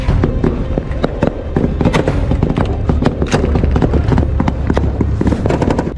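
Missile solid rocket propellant igniting and exploding, a dense barrage of sharp cracks and pops over a continuous rumbling roar, loud and close for the whole stretch.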